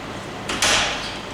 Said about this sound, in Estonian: Lähme uksest.